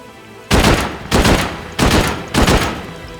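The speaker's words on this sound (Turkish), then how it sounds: "Patlayıcı mermi sıkacağım" Four heavy explosive rounds fired one after another in an online video game raid, each a loud, booming blast with a short tail, spaced roughly half a second apart and standing alone without talk.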